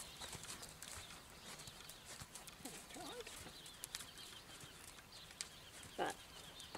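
Standardbred horse moving during a riding lesson, soft clip-clop of hooves and occasional snorts and tack rattles, moderately distant and faint over outdoor background noise.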